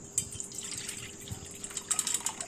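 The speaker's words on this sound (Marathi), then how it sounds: "आता वरती आलेलं पाणी काढून घेऊया" Water sloshing and trickling close by, with small splashes and drips as rinse water is poured off soaked sago pearls, fairly quiet throughout.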